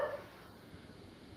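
A small dog barks and yips briefly in a home setting during a live workout session, a faint bark near the start fading under low room noise.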